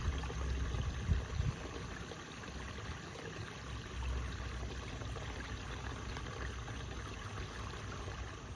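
Steady rushing water of Deep River Falls in the Calumet wilderness fills the scene, a continuous broadband wash heard from nearby, with no voices.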